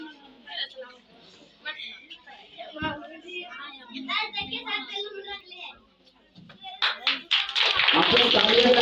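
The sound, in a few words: audience clapping at a children's award ceremony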